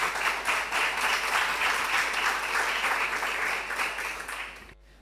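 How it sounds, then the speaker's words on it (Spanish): Warm applause from an audience at an institutional opening session in a university hall, steady dense clapping holding for several seconds and then cutting off abruptly near the end, with no talk over it. "un cálido y afectuoso aplauso para todos ellos y para todas ellas"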